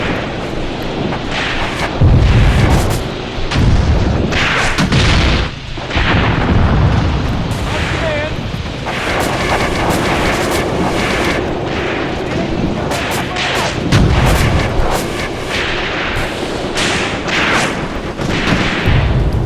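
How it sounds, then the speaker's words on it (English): Explosions and artillery fire in a WW2 tank battle video game set in Tunisia 1943, heavy booms and rumbling blasts recurring across the scene, with a voice talking over them. "I like seeing these little explosions"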